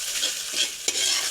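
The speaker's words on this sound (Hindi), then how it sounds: "अब इन मसालों को अच्छी तरीके से हम अच्छी तरीके से भूनेंगे" Whole spices roasting in hot ghee for a restaurant-style kadhi pakora, with a steady close sizzle and the scrape of a spoon stirring through the pan, no voices.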